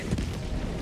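An auto cannon fires in an indie video game, a dense burst of heavy booming blasts rolling together for under a second, loud and without talk.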